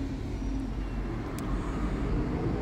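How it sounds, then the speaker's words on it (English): An ex-London E200 bus idles and rumbles at Cannock bus station, a low steady engine drone mixed with station ambience and a brief hiss, fairly close and continuous. "here comes another ex-London bus, E200."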